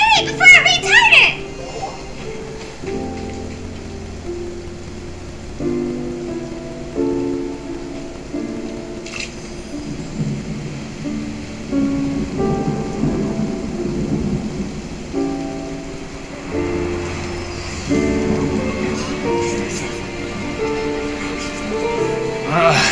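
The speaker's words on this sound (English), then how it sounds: "It's raining!" Rain falls with rumbling thunder in the video game Genshin Impact, a steady wash of rainfall under soft game music, with a childlike character voice and other characters talking over it.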